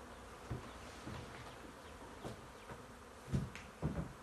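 A honey bee swarm buzzes steadily around the listener, a dense hum with individual bees droning loudly past up close several times.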